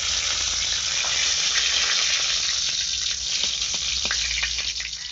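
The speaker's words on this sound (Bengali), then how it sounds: "ফোড়নে দিচ্ছি কালো জিরে, শুকনো লঙ্কা, তেজপাতা," Black cumin, dried chillies and bay leaf hit hot oil in a wok for a rohu fish curry, setting off a loud, continuous hiss and sizzle with small pops and faint stirring, with no voices.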